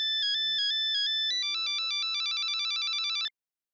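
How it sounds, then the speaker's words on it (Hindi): A mobile phone ringtone plays a bright, repeating electronic melody, loud and close. It steps up in pitch partway through, then cuts off abruptly. "मोबाइल की रिंग बजी तब आप जगे"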